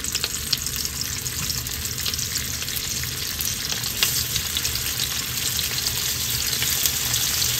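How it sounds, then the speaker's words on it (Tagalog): Steady, loud sizzling of Spam frying in a pan, with occasional crackles and pops throughout. "Tapos, prito na po natin itong finished spam."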